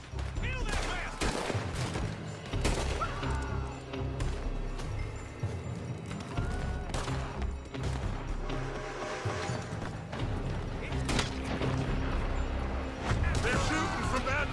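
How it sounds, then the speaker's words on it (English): Gunfire in Red Dead Redemption 2 rings out in repeated shots and volleys during a chaotic shootout, mixed with a dense score and voices talking throughout. "They're shooting from that building."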